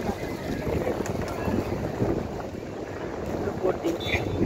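Boat ride on the water near the Gateway of India and Taj Hotel in Mumbai, with a continuous rumbling engine and water wash mixed with wind buffeting the microphone, steady and close throughout.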